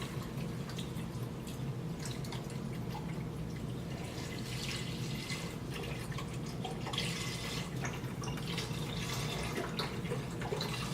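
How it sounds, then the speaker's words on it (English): Unsalted chicken broth from a box poured into a soup pot while making meatball soup with spinach; a steady, continuous liquid pour with faint splashing, close by and with no talking. "you want to go ahead and add 1 box of chicken broth"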